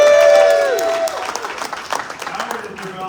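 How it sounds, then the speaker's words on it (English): Audience at a small business presentation applauding for presenter Albert Corey, scattered clapping that begins under a fading voice and continues loosely to the end. "Give that a round of applause."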